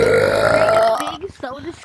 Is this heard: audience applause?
no